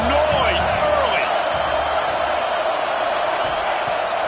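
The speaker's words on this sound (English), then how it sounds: "This crowd bringing the energy and noise early." Stadium crowd in a college football video game, a steady dense roar filling the background at even loudness throughout, with faint higher calls and whoops rising briefly at the start.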